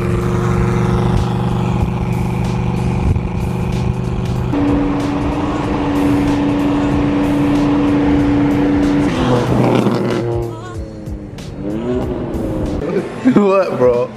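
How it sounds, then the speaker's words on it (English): A straight-piped Nissan GT-R idles loud and close at a stoplight, a deep steady rumble with strong, even engine harmonics that runs continuously before voices take over near the end. "Guys, this is idling at a stoplight. It's so loud."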